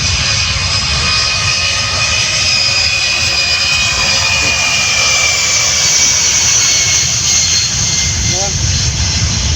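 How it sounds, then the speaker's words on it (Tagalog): A fixed-wing airplane roars steadily past an airfield, loud and sustained throughout with a broad engine and jet-like rush, while people talk over it. "Isang napakagandang paglipad"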